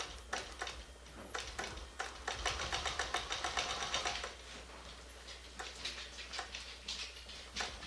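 Sewing machine quilting around a shape in a trapunto project: bursts of rhythmic ticking stitches starting and stopping irregularly, close and moderately loud over a low steady hum, with no talk.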